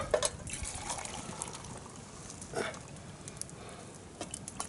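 Tea poured from a pot into mugs beside a campfire in a cold winter forest, a soft, continuous trickling splash with a few faint clinks, quiet and close, with no talk.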